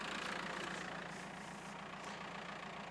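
Car engine idling while hitched near a driveaway awning, a quiet, steady low rumble with faint regular knocking, continuous and fairly distant, no talk over it.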